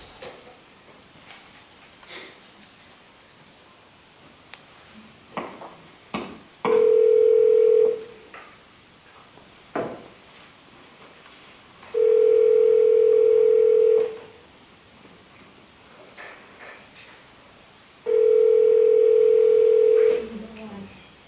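A telephone handset plays three long steady tones, each about one to two seconds, separated by pauses filled with small clicks and handling sounds, as an operator redials a number.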